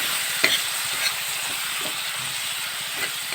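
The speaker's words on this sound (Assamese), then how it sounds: "5-10 মিনিট ভাজি ল'ম।" Ground spice paste fries in a hot pan with a steady, close sizzle and hiss, broken by a few faint stirring scrapes.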